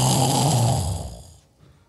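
A man imitates snoring with his voice, a loud, rough, drawn-out snore lasting over a second that trails off into quiet, with no other talk.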